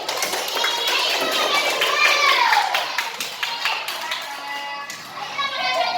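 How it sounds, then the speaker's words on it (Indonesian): A classroom of children claps for classmates who have just presented, a scattered, uneven patter of hands mixed with children's chatter and an adult voice speaking over it. "Kita berikan tepuk tangan untuk teman-teman yang sudah tampil."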